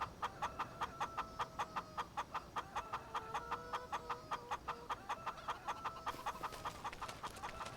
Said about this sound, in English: all of a sudden the chickens are like nuts